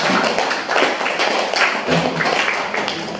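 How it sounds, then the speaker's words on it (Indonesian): An audience at a tax office press release claps steadily for a few seconds, a dense, even patter of many hands without speech. "Mohon tepuk tangannya."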